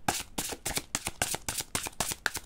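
Oracle cards, a Native American deck, are shuffled close up, giving a quick series of crisp riffling and slapping bursts in an irregular rhythm with no voices.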